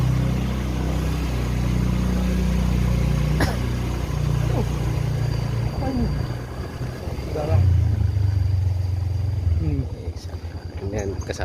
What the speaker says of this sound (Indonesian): Nah ini aja naik motor guys, susah.